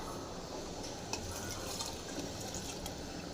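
Water poured into a pot of cooked spinach greens gives a steady, soft splashing wash lasting a few seconds, close and fairly quiet, with no voices.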